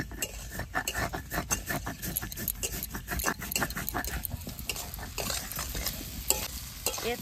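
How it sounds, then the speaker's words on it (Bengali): Fried potato and green jackfruit are stirred in a hot sizzling pan, a utensil scraping and clinking in quick repeated strokes over a steady frying hiss, close and moderately loud. "এঁচড় আলু দিয়ে একটু নাড়াচাড়া দিয়ে জল দিয়ে দেবো"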